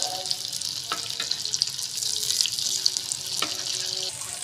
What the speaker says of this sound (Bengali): আমি এগুলোকে তেলের মধ্যে দিয়ে এরকম উল্টে পাল্টে একটু ভেজে নিচ্ছি